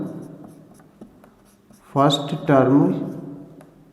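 Pen or chalk scratches briefly while a teacher writes out the first term of an arithmetic progression, faint strokes partly under someone speaking in Hindi.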